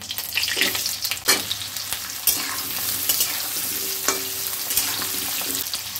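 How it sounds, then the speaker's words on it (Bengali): Potatoes sizzle in hot oil tempered with black cumin seeds: a dense, steady frying hiss broken by a few sharp clatters of a utensil against the pan. "কালো জিরে ফোড়ন দিলাম, আলুগুলো দিয়ে দিলাম"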